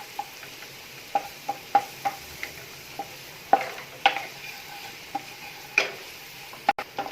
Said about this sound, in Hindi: यहाँ हम मैदा डाल रहे हैं इसके अंदर और इसको अच्छे से करेंगे मिक्स ताकि मैदा हमारा अच्छे से भुन जाए।